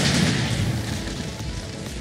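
A Minecraft explosion: a loud, dense, rumbling boom that fills the whole moment and sounds close, with no talking over it.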